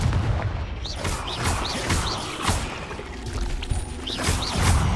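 Explosive fire spells from Hogwarts Legacy on PS5, including Confringo, land as repeated sharp blasts and whooshing bursts over a loud, busy battle din, with scattered impacts throughout.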